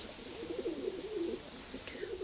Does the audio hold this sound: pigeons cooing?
yes